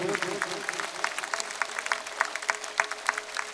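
Rhythmic group clapping rolls through a political rally crowd in Banaskantha, Gujarat, with strong regular beats punching above a continuous bed of scattered hand claps.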